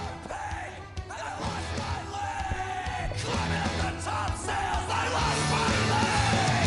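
A large crowd at a sprint car race track yells and whoops from a distance, the roar swelling steadily louder over several seconds.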